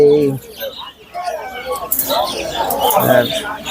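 Caged birds at the Fatullah bird market, including quails, chirp and call amid a busy crowd, with market chatter and people talking throughout.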